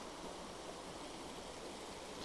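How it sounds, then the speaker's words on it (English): Steady broadband rush of water flowing out of a tunnel on a mossy winter walk, a continuous close, even wash with no voices. "tunnel out of which the water flows, that's really beautiful too"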